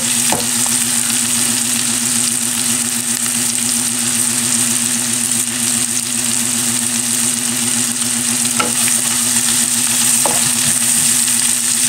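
Small tomatoes fry and soften in a pan for a Filipino sautéed vegetable dish, giving a steady, loud, unbroken sizzle with a low background hum and a few faint clicks of stirring.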